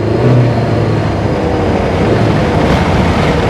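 A car driving hard at around 60 to 65, its engine and road roar loud, close and steady throughout, with a continuous rushing drone and no pauses.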